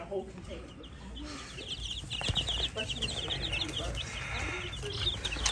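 Week-old Buff Minorca baby chicks cheep in a dense, continuous chorus of high peeps, close by and moderately loud, with soft rustling and a person speaking over them.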